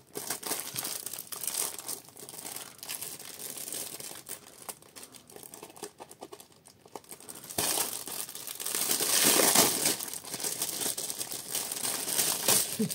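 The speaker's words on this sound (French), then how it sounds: "Je vous assassine les oreilles avec mes bruits de plastique." Perforated plastic zip pouches crinkle and rustle up close as they are handled, with continuous crackling that swells louder near the end.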